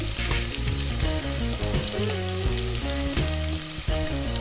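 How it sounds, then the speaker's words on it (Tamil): Onions sautéing in a pan with cloves and spices until brown, a loud continuous sizzle with stirring clatter, heard alongside tonal background music. "நல்லா ப்ரௌன் கலரில் வர வரைக்கும் வதக்கிட்டு வர அளவுக்கு சால்ட்டு,"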